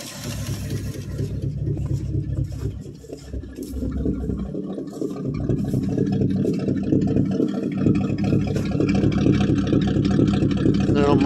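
A 1965 Ford Fairlane 500's 289 V8 idling loudly with a rotted muffler, rough and throaty with a rumbling, uneven exhaust pulse, steady and close, rising a little as it runs.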